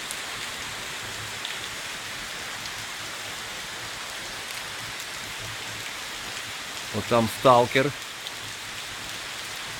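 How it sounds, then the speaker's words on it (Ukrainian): Heavy rain pours steadily at a wet climbing camp, a constant close hiss throughout, with a short stretch of people talking near the end. "Всюди тече дощ, річки."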